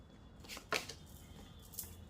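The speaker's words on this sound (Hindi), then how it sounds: "I'll take one more card." Tarot cards are shuffled and drawn from a deck during a love reading, a couple of quick close riffling flicks and soft slaps, faint and brief, with no talk.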